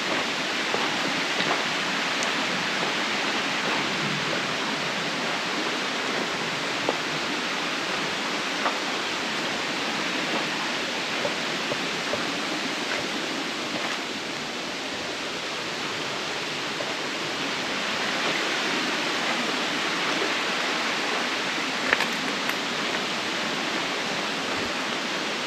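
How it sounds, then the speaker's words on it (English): Creek water flows without a break at Devil's Hole, a broad even rushing wash that holds steady for the whole stretch, close by and with no voices. "Right on the creek here."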